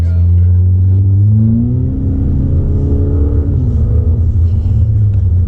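A tuned Ford Mustang EcoBoost revs and pulls hard, loud and close, its throaty pitch climbing and dipping through gear changes with a deep rumbling tone.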